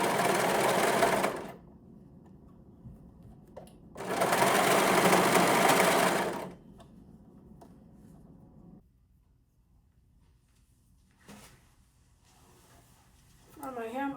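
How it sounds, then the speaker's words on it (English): A serger overlock machine trims and serges the edge of a small doll T-shirt dress, its cutting blade shaving off a little fabric. It runs in two loud, close bursts separated by a pause, followed by quieter handling sounds. "And then just keep serging all the way around, just taking off a little bit."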